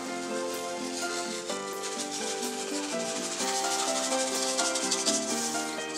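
Sugar being stirred into heated milk in a pan to make homemade condensed milk, a steady scraping and rubbing of the spoon against the pan that continues through the whole stretch with no talk.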